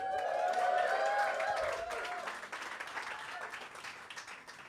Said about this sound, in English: Give a round of applause for Todd